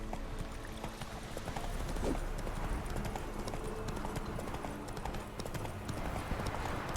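Horse hooves galloping in The Witcher 3, a steady rapid clip-clop that runs continuously at a moderate level against a dense game background.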